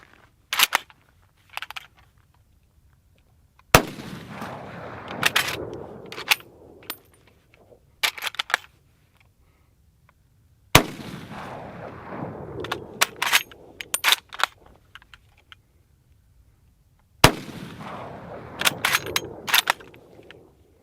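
An Arisaka Type 38 carbine fires Steinel ammunition outdoors: four loud, sharp gunshots spaced several seconds apart, each followed by bolt cycling clacks and the tinkling of ejected brass, with quiet gaps between.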